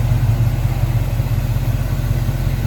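A 1970 Chevrolet Caprice Kingswood wagon's 350 V8 idles smoothly and steadily, a close, even low rumble that holds without revving.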